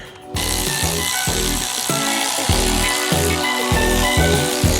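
A power ratchet loosens engine bolts on a Honda S2000, whirring loudly in repeated short bursts, its motor buzzing steadily between pulses, close and continuous.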